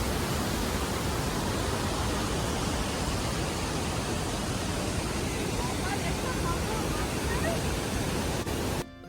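Rushing water currents at Niagara Falls roar as a dense, continuous broadband wash, steady and enveloping for the whole stretch before cutting off at the very end.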